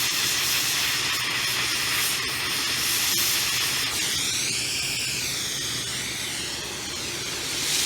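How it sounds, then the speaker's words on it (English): A small acetone-infused oxyhydrogen brazing torch, run at low amperage through a number 85 gas-stove spud, gives off a loud, steady hiss that holds throughout with slight wavering. "Definitely has enough heat to braze with this little torch"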